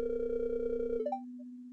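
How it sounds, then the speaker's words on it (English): A mobile phone notification plays nearby, a sustained steady electronic tone that breaks into a few short higher blips near the end, with a low hum continuing underneath. "my phone did go off"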